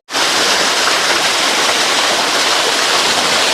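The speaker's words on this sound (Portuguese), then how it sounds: "Vou fazer uma foto aqui dessa cachoeira agora." A waterfall on a rural country property, a steady, dense roar of falling water that stays loud and unbroken throughout, with no voices.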